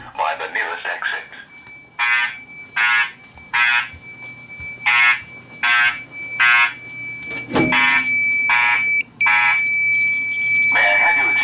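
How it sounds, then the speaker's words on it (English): A building fire alarm sounds during a system test, giving evenly spaced loud electronic beeps that merge into a steady continuous tone near the end, with a public-address voice speaking over it. "A fire alarm has been reported in the building."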